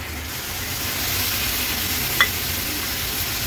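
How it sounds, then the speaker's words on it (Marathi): Masala paste sautéing in a pan with mackerel added, a steady hissing sizzle with light stirring, close and moderately loud, with one brief clink of a utensil partway through. "पण ह्या मसाल्यासोबत छान परतून घ्यायचे"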